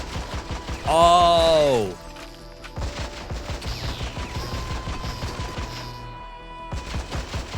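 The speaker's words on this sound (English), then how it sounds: "Why am I turning around and shooting?" Rapid bursts of video game gunfire from a twin-stick top-down shooter on a PSP, sounding as repeated sharp reports over game music, with a sustained tonal effect early on and a brief exclamation from a voice.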